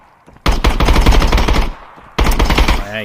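Rapid automatic gunfire in the shooter game Exfil Zone erupts in two loud, close bursts, the first lasting over a second, a short pause, then a second burst.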